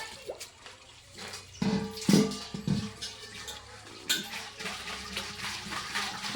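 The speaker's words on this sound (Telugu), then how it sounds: "నల్ల నీళ్ళు ఫుల్ వస్తున్నాయి రా" A municipal water tap runs into pots, giving an uneven splashing and gurgling that rises and falls in bursts as the vessels fill, close by and fairly quiet.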